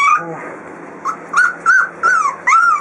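A dog on a cattle farm gives a brief low growl and then a series of five high, rising whimpers in a steady rhythm, loud and close.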